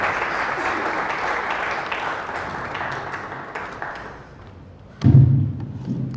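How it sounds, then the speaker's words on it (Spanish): An audience at a talk on protecting life and family applauds a doctor with strong clapping that gradually fades, then a sudden loud thump near the end. "también lo recibimos con un fuerte aplauso"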